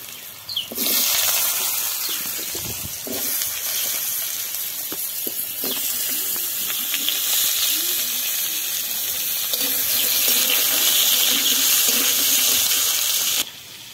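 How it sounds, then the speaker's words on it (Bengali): Paneer cubes frying in oil in a pan, a steady loud hiss and sizzle running continuously with scattered crackles and pops throughout. "এটা ভেজে নিচ্ছি লাল লাল করে"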